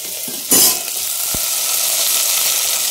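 Eggplant pieces drop into a pan of frying onions with a loud burst of sizzle, then settle into a steady, close hiss of frying that carries on alone without talk.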